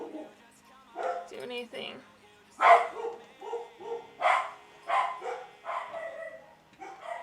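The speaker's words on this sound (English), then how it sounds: "Did you hear my dogs? Can you still hear my dogs?" Several pet dogs bark and yip in bursts at a home during a livestream coding session, fairly close, with someone talking over and between the barks.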